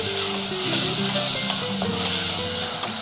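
Raw mango pieces sautéing in hot oil while being stirred for a fish curry with dried fish, a steady close sizzle with light scraping and clinks of a spoon against the pan throughout.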